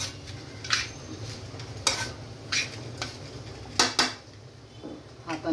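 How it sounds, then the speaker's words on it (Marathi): Food being mixed by hand in a bowl in a home kitchen, soft squelching and rustling with a few sharp clinks of a utensil or bowl against a surface, irregular and close. "हे बघा आता हे चांगलं मिक्स करून घेऊया."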